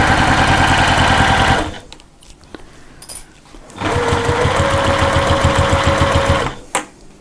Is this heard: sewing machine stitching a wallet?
yes